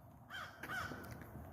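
A large crow caws a few times outdoors, moderately loud, against a faint background hiss with no talking.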